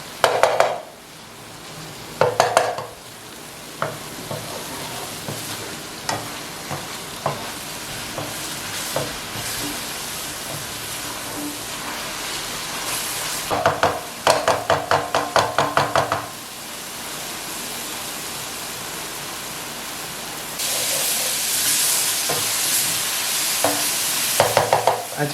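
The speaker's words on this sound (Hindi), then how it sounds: "ये सारी चीज़ें हम इसमें ऐड कर देंगे। अच्छी से मिक्स कर लेंगे इनको।" Black pepper, salt and turmeric get stirred while frying in a pan for a dhaba-style bhindi masala, with sharp knocks of a spoon on the pan, bursts of sizzle and a steady background hiss, close and loud, with no talking.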